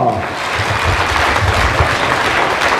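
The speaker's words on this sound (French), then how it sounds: "je pense qu'on peut les applaudir tous les deux très fort" An audience at a magic and mentalism show in Lyon applauds loudly and steadily for two participants, a dense, close wash of clapping filling the whole moment without talk.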